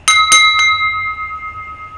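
A wine glass is struck like a bell three times in quick succession, each clear ring overlapping, then one pure tone sustains and slowly fades, close and loud with no talking.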